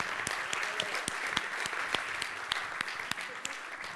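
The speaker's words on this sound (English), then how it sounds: "give them a round of applause" A conference audience at a blockchain workshop in Sydney gives a steady round of applause, many hands clapping densely with a few sharper individual claps standing out, continuing evenly throughout.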